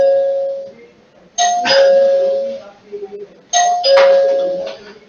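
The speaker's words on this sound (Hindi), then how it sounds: "You can press this doorbell and you will get the ding dong sound." An EZVIZ smart doorbell plays its ding-dong chime twice, clear and close, with a short pause between the two rings.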